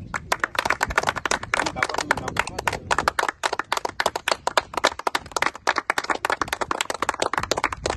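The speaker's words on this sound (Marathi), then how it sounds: "टाळ्या" A crowd at an anniversary celebration for the Lonar lake sanctuary claps in a fast, dense burst that settles into more rhythmic, evenly spaced applause, with faint voices underneath.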